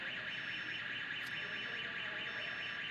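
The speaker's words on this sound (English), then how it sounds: "When you turn this on, your alarm will go on." A LIFT HERO CPD30 6,000lb electric forklift sounds its startup alarm, a continuous, loud, warbling electronic tone that holds steady throughout with no talking.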